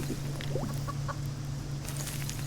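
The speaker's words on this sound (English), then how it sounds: "How you doing, chicken? You hungry?" A chicken clucks in short, soft bursts over a steady low hum in the survival game Subsistence, with faint farmyard ambience and no talking.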